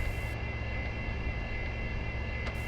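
A Saab AJS37 Viggen jet engine at ground idle in DCS produces a steady, close, unbroken roaring drone with a faint high whine, holding level throughout with no voices.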